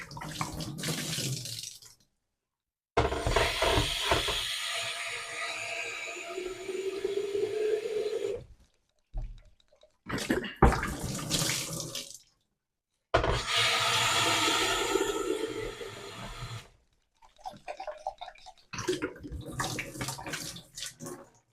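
Hot tap water rinses through a Pinter 3 beer dock in long running bursts, separated by brief pauses, the splashing and gurgling flow loud and close with no voices.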